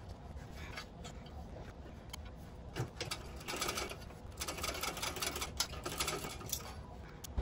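A sewing machine stitches a fabric bag in a continuous mechanical whir, with a brief pause in the middle before the rapid, even clatter resumes, close and alone.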